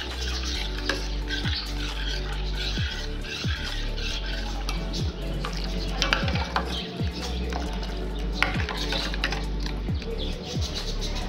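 A spoon stirs coconut milk rasam with turmeric and salt, scraping around a metal pot with repeated light clinks, over a steady background hiss and faint bird chirps.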